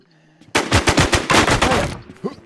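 Rapid automatic gunfire in the survival shooter Infestation, a loud close burst of about a dozen shots fired in quick succession, ending abruptly and followed by faint background game noise.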